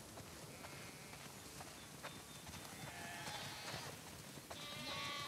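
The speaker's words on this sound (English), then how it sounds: "Wow, that's a lot of sheep." A flock of sheep bleats on a farm in The Last of Us Part II. Several faint, distant bleats rise over a steady ambient hiss, with soft hoof clops beneath them.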